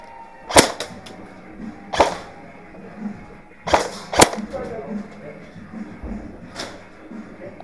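Airsoft guns fire during an outdoor skirmish game, sharp snapping shots coming in small bursts at irregular intervals, some close and loud, others softer, with people talking now and then in the background.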